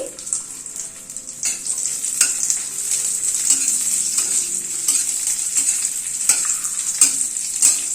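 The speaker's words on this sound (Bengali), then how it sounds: "এই তেলটার মধ্যে খানিকটা কিশমিশ ভেজে নিচ্ছি।" Raisins fry in a pan of hot oil for a chhana pulao, making a bright, continuous close sizzle with bursts of bubbling and light stirring, with no voices.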